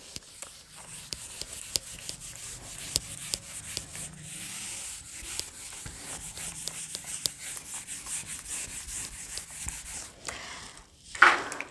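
Chalk or a duster rubs across a classroom board in quick, scratchy strokes, a dense run of small taps and brushing sounds with a brief sharper squeak near the end, no talking over it.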